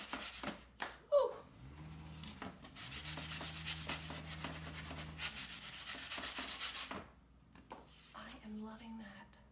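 A sanding block rubs back and forth over painted wood in steady, close scraping strokes, with a few soft knocks and handling noises around them.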